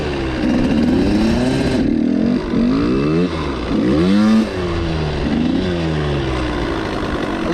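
Dirt bike engine revving hard on the throttle during wheelie attempts, loud and close with rising and falling pitch sweeps across repeated bursts and no talking.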